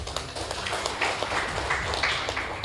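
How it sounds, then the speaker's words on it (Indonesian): Audience applause during a talk-show style discussion, a steady roomful of clapping with scattered sharp individual claps over a low rumble, fairly loud throughout the short stretch. "Tepuk tangan untuk NU."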